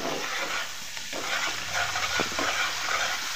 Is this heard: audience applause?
no